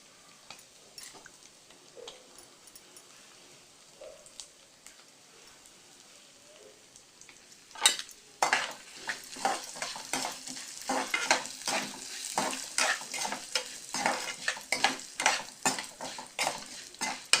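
Dried red chillies fry in sesame oil for a radish chutney, starting with light scattered crackles, then a louder burst of sizzling mixed with metal stirring and scraping against the pan.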